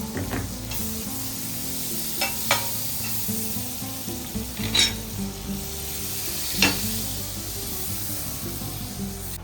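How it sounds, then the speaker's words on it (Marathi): Butter sizzles and hisses steadily in a hot pan, with a few light clicks and scrapes breaking through the continuous frying noise and no voices. "पॅन गरम झाल्यावरती मस्त बटर टाकलेलं आहे स्नेहाने"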